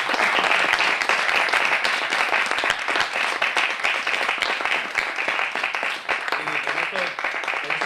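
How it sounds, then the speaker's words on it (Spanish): Audience applause as a farewell to José María Conget at a comics talk event, a steady, dense wash of clapping from a crowd sustained throughout, with faint voices underneath near the end. "démosle un aplauso ahora, por favor, para despedirle"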